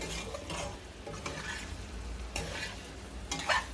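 Goat liver fry being stirred in a pan after garam masala goes in, a close steady sizzle broken by several scraping strokes of the spoon, with a sharper metallic scrape near the end.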